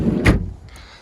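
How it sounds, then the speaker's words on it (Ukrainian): A minivan door at a Lviv used-car market opens with a single short, thudding clunk, followed by a faint light click a moment later. "Бачите, з цієї з цієї сторони двері відкриваються"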